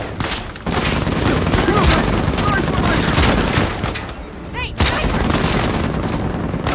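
Sniper rifle fire and other gunfire in the Uncharted 4 video game form a dense, loud, continuous barrage of shots and blasts, with a brief lull near the end before the firing resumes.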